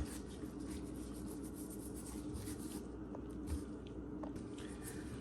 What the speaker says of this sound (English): You're gonna make sure you rub the season well inside.